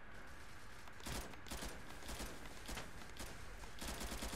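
Gunfire from the Turkish online shooter Zula: bursts of rapid automatic shots and single cracks repeat across the clip, fairly close and loud over a steady background.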